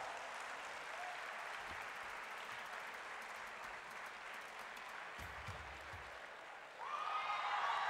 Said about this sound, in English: Please give them a big hand.